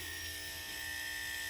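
Electric hair clippers with freshly oiled blades run steadily, a constant close motor buzz with an even, unbroken drone and no voices over it.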